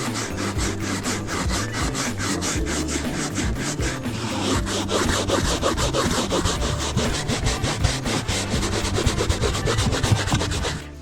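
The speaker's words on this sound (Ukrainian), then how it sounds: "Беремо щіточку і починаємо витирати." A hand brush scrubs a BMW F30's car interior during dry cleaning, a dense, steady rhythmic rasping of rapid strokes that runs close and loud throughout.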